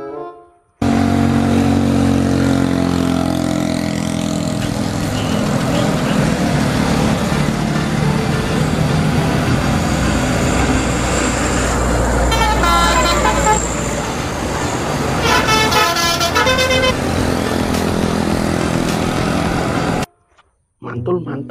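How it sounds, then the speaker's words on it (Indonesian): An Efisiensi bus passing on the road, its loud engine rumble swelling and fading with traffic noise and several bursts of multi-tone horn toots midway, then a brief near-silent cut at the end. "Yang ini ada bus Efisiensi teman-teman."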